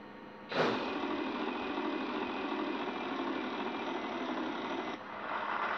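In a Wheel of Fortune plug-and-play TV game, the wheel spin is an electronic whirring buzz. It starts abruptly, holds steady and fairly loud for about four seconds, then cuts to a quieter tone.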